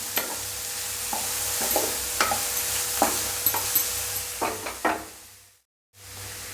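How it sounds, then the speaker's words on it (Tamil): Chopped green beans are stir-fried in a pan, with a spatula scraping and tossing them in a rhythmic series of clatters over a low sizzle before a brief pause. "நான் பீன்ஸ் சேர்த்துக்கிறேன், நறுக்கி வச்ச பீன்ஸை. இதை லைட்டாக வதக்கி விட்டுட்டு"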